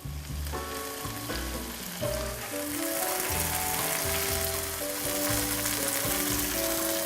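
Seasoned food sizzles and fries steadily in a pan on a gas range, a loud continuous crackle with occasional stirring, while music plays underneath throughout.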